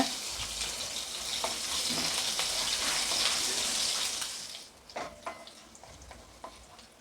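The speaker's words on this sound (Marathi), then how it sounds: "मोहरी चांगली तडतडली आता त्याच्यामध्ये मी जिरं टाकून घेते आणि लगेचच मी मिरची टाकून घेते" Mustard seeds, cumin and green chillies sizzle loudly in hot oil for a few seconds, then the spattering drops to a quieter crackle with sharp scattered pops and clinks near the pan.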